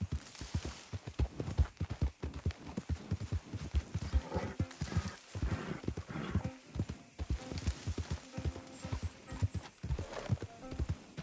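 A horse in Red Dead Redemption 2 gallops with fast, rhythmic hoofbeats, close and continuous, and lets out a whinny partway through.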